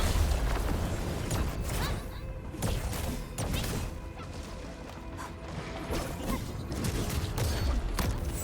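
Gunfire in the video game Arknights Endfield makes a dense, continuous barrage of loud bursts and impacts layered with mechanical clatter and crashes, with no letup across the whole stretch.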